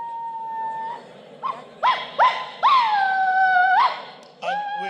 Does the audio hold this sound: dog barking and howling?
yes